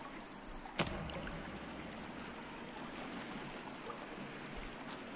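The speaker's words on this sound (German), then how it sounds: "es ist wirklich laut Wasserfall." A loud waterfall in the survival game The Forest pours as a dense, constant roar with one sharp knock near the start, no voices over it.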